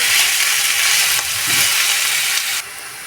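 Onions for a pointed gourd (potol) bhaji fry in hot oil with a few sliced green chillies, giving a steady, close, dense sizzle that softens slightly near the end, with no talking.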